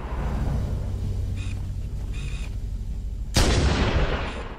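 Gunfire from the shooter game Halo: Combat Evolved, sustained rumbling battle noise with a couple of faint bursts, then a louder, sharper blast near the end, continuous and dense throughout.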